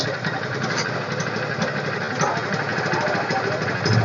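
A 2019 Bajaj Pulsar 180F motorcycle engine idles close up, a steady rapid chugging putter with a slight rattle, running without a break and with no voices over it.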